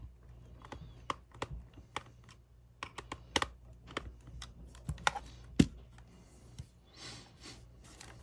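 Small screws being backed out of a Wii U Pro Controller with a screwdriver, close up: scattered sharp clicks and ticks of the driver bit turning in plastic, irregular and fairly quiet with no talking.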